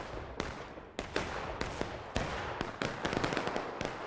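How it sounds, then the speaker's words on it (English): Repeated artillery shots and impacts in the Civil War video game War of Rights, set on the Pry Ford map: a rapid, irregular series of sharp booms and cracks with no talking. "Very interested to see where these arty shots are hitting."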